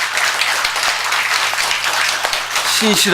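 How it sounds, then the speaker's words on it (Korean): A church congregation claps together during a Korean sermon, a loud, dense burst of many hands that holds evenly, with a brief voice rising near the end. "박수 한번 칠까요?"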